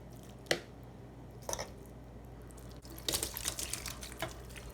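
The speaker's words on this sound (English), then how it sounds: "then you want to press it so that the extra liquid can come out" Seitan pieces pressed in a strainer give soft wet squishes, with dripping and trickling as the liquid drains; close and faint, a few separate squelches and then a busier wet patch, with no talking.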